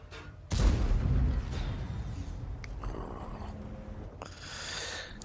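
Tank guns in World of Tanks go off in one heavy, booming report followed by a fainter second shot and rumbling aftermath, moderately loud, with no voices.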